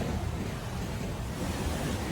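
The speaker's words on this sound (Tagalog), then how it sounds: "Tingnan mo sa likod ko yung alon, oh. Napakalalakas." Strong sea waves crash on a beach shore during a storm with drizzle, a dense, continuous roar of surf and wind rumble filling the scene, loud and steady with no talk heard.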